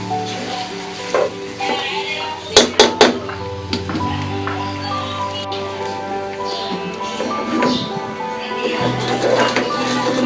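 Beef kala bhuna is stirred in a cooking pot with a steady sizzle and frying hiss, broken by a few sharp metallic scrapes and clinks of the spoon against the pot.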